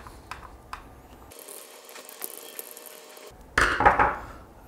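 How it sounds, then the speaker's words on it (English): A small screw is backed out of the plastic casing of a compact ESP32-S3 smart controller, giving faint ratcheting screwdriver clicks that end in a brief louder scrape and rattle up close. "open this screw"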